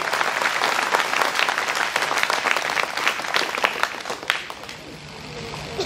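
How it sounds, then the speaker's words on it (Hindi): A church congregation at a Confirmation ceremony in a parish applauds loudly and densely for several seconds before the clapping tapers off, with a faint voice underneath. "जोर से ताली बजाएं।"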